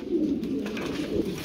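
A long face pigeon coos in a brief, soft, low burble, close by and alone.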